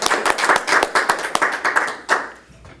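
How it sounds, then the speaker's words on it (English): A small audience at a Toastmasters club meeting claps for roughly two seconds, a brisk, uneven patter of hands that tails off into near silence. "Big round of applause for Mr. Snowflake"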